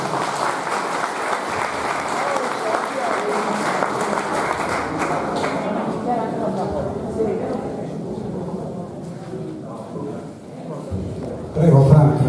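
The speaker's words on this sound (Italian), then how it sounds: "fatemi un applauso" Sustained applause from a crowd, loud and dense at first, then thinning slightly, with a burst of renewed clapping near the end.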